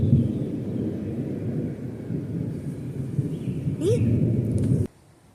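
Rolling thunder, a low continuous rumble that swells and fades across the clip, fairly faint and distant, with a brief higher chirp near the end before it cuts off abruptly.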